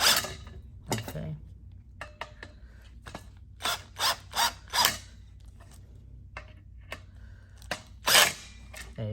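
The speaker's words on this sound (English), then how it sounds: "So using a drill helps out a lot actually" Power drill driving screws into the wood of a corner desk during assembly: short whirring and ratcheting bursts separated by pauses, loudest in a cluster of four bursts and a final strong one, with faint handling noise between.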